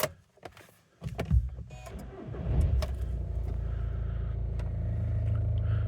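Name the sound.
2013 Seat Leon FR+ 170 TDI engine starting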